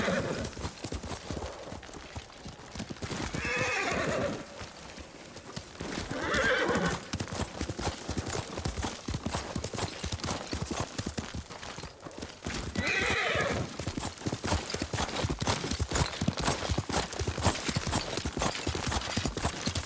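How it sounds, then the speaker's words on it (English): A horse in the video game Ghost of Tsushima, with steady clip-clop hoofbeats running throughout and three loud whinnying neighs spaced apart, mid-distance and clear. "Yuriko's horse. She can't be far."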